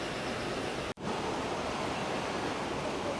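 Floodwater from heavy rain drains fast around a house with a steady, even rushing wash, broken by one brief dropout.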